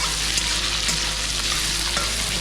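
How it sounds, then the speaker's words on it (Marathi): Onion and tomato fry in hot oil in a pan: a dense, continuous close-up sizzle with a faint low hum beneath, steady and loud, with no talking. "तेल गरम झाल्यानंतर त्याच्यामध्ये कांदा आणि टोमॅटो टाकायचं"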